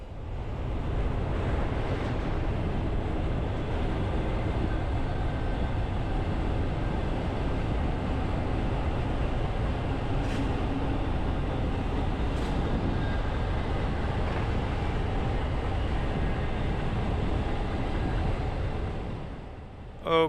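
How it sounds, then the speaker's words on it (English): A noisy train roars steadily past in Odell, Illinois, along Route 66, loud and continuous throughout with a rumbling low end and a brief fade at the close. "A true choo-choo roaring through Odell."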